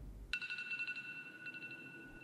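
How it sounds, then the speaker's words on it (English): In a SpongeBob horror video game, a phone alarm clock starts ringing suddenly with a bright electronic tone in quick repeated pulses. It stays faint and steady, and there is no talk. "It's like his phone alarm clock."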